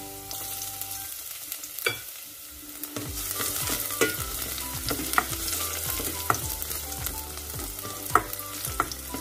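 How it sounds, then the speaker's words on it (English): Garlic fries in oil in a pan, with a steady sizzle broken by sharp clinks and scrapes of a utensil stirring at irregular intervals, heard close and without talk. "So I have here oil and I'm going to put garlic in here"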